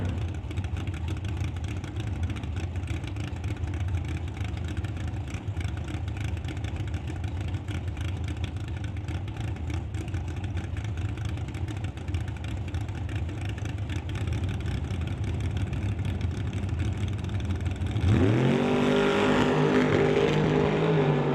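Drag race between a Chevy 2 and a Roadster at a drag strip: a steady distant engine rumble for most of the clip, then a loud rising roar as the cars launch near the end, no talking.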